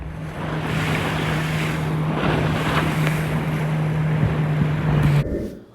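Strong wind roars across the microphone out at sea off Gulf Shores, Alabama, a loud, constant rush with a low engine-like hum beneath, cutting off abruptly at the end.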